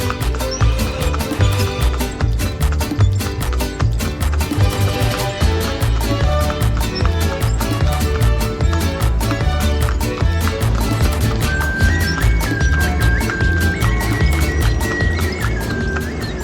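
Steady, rhythmic clip-clop of a carriage horse's hooves on pavement during a town fiesta in Boljoon, Cebu, close and continuous, with music playing loudly alongside.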